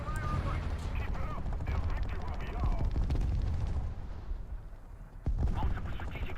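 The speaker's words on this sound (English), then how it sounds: "We'll drop some artillery in there." Artillery fire in the War Thunder tank battle, Russian ground forces at tier 8.0, with a run of dense, overlapping booming blasts and rumbling explosions, loud and continuous, a sharp new impact landing near the end, while a voice talks over it.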